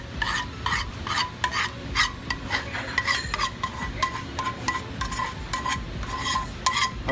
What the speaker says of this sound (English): When you add the roux, you want to be sure to keep that moving.